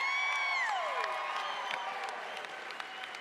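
A crowd claps and cheers for a dancer at a local dance competition event. A high whooping shout opens the clip, then steady, full applause continues, with scattered cheers.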